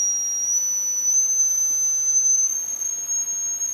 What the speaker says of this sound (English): There's the 555 pulse generator / tone generator.